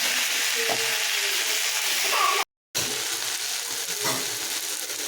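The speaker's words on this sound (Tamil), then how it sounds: "இப்போ தக்காளியும் சேர்த்து ஒரு 2 நிமிஷத்துக்கு அப்படி நம்ம வதக்கிட்டு இருப்போம்" Onion and tomato sauté in a pan on a home stove, giving a steady close sizzle and frying hiss with occasional stirring scrapes. A brief dropout cuts the sound midway, and there is no speech over it.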